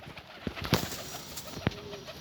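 Pigeons in a loft coo softly, with a few low throaty calls over a quiet hiss of background air and faint rustling nearby.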